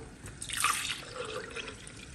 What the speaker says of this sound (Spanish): En la licuadora voy a agregar agua.